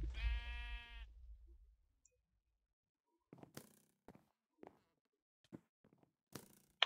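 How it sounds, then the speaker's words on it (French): Healing sheep bleating in the Minecraft-style Sheepwars game: one clear, close bleat at the start, then silence and a scatter of short soft thuds and clicks. "on va utiliser le mouton soigneur pour nous régénérer notre vie"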